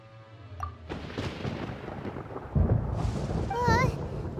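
Rumbling thunder from a storm in the video game Genshin Impact, with low booming rolls under a busy game soundscape, a brief spoken voice and a higher chime-like effect layered near the end.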